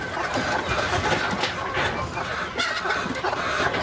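A native hen on a farm clucking softly as she settles over her eggs, with repeated low, close clucks and murmurs over a busy background of other fowl.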